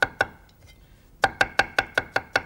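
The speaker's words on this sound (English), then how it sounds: "And here I'm using a Chinese cleaver, but you can use a knife if you wish. Chop it fine" A Chinese cleaver finely chops canned water chestnut on a board with crisp knocks: two quick strokes, a short pause, then seven evenly spaced chops in a steady rhythm.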